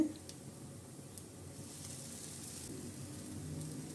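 Cassava adai cooking in a pan with a little oil, a faint steady sizzle and hiss with a few soft taps of a utensil, quiet and continuous.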